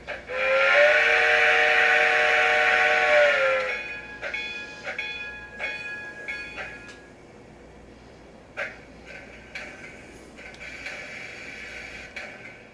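A DCC model steam locomotive with an upgraded Loksound 50334 speaker gives a long, loud steam whistle blast, followed by softer hissing, chuffing and short clanking sounds.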